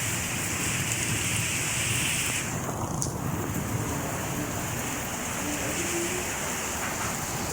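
Heavy torrential rain in Karachi pours down in a dense, continuous hiss, loud and steady from start to finish, with no voices heard.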